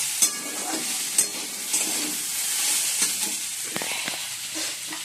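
Potatoes fry in a pan with a continuous hissing sizzle and occasional soft stirring clicks, close and steady throughout with no speech.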